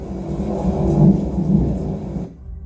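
A storm with rolling thunder, wind and rain in a story, a deep rumbling swell that rises, holds for a couple of seconds, then cuts off abruptly, with no voices.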